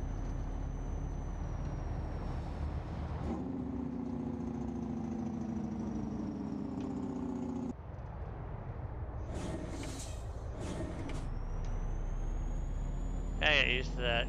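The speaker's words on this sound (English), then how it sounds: "I get used to that gear shifting sound." A truck engine in the video game American Truck Simulator drones steadily as gears shift, with the pitch stepping between levels and a few brief mechanical clunks, under quiet talk.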